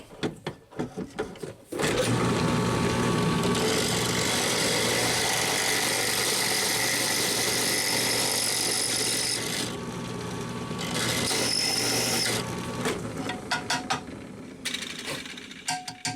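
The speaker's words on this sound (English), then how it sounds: "I'll have to drill it out." A power drill grinds steadily into a metal fitting on a 1994 Saab 9000 for about eight seconds, then slows, stops and restarts in short bursts before falling quiet.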